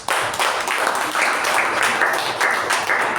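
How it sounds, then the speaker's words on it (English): A meeting audience breaks into a short burst of applause, a loud, continuous wash of clapping lasting about three seconds. "And she deserves a big round of applause."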